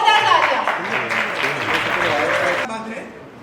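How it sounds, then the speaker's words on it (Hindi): A live audience at a stage event honoring the Taarak Mehta Ka Ooltah Chashmah comedy show breaks into loud, dense clapping for about two and a half seconds, then it drops off sharply, leaving quieter room sound. "जोरदार तालियां।"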